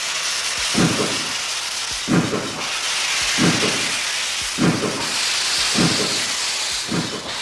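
A steam locomotive gives off a loud, steady hiss of steam, punctuated by six regular, rhythmic chuffing bursts about a second and a half apart, close and without voices.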